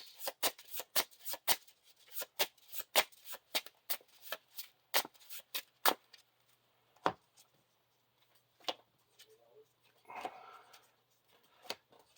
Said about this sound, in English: now we shuffle the encounter discard pile back into the encounter deck